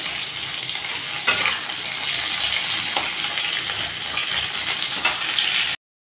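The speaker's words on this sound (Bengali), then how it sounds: "আলুগুলোকে 2-3 মিনিটের মতো আমি ভেজে নেব, একটু লালচে করে।" Potatoes frying in hot oil in a pan for a tangra fish dish, giving a loud, continuous close sizzle with an occasional clink from the utensil before it cuts off abruptly.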